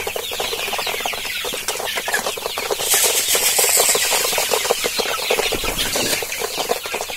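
Many chickens clucking together inside a poultry farm shed during feeding, a dense, continuous chorus of close clucks and calls with a faint mechanical hum underneath.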